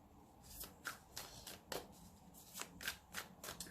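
Tarot cards are shuffled by hand in a series of quick, soft riffling bursts at an irregular rhythm. The sound is close but faint, with no talk.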